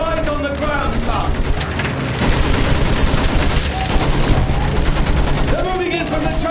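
Machine gun fire from the World War I shooter Battlefield 1 rattles loud and sustained in dense bursts. It is mixed with battle noise and shouting voices.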